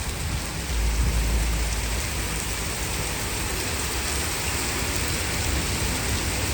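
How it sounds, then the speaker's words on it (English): Heavy rain pours down steadily during a spring thunderstorm, a dense, continuous hiss with a deep low rumble swelling near the start, loud and close with no talking. "It is pouring."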